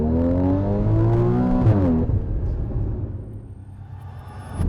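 A Porsche Cayman Black Edition pulls away with its handbrake still engaged, the engine revving up loudly and then fading as it moves off, with no talking.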